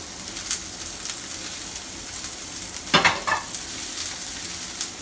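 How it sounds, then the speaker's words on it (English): Sun-dried tomatoes are stirred into a creamy garlic pasta sauce in a pan, producing a steady close sizzle, with one louder scraping stir partway through and no talking. "Now in our sauce, we're going to add our sun-dried tomatoes."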